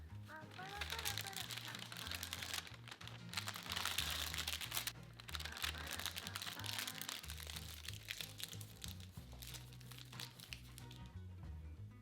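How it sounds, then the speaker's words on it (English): Shrimp spring roll filling being put into a plastic Ziploc bag, with crinkling and crackling plastic close up, continuing irregularly throughout. "Place the filling in a pastry bag or a Ziploc bag."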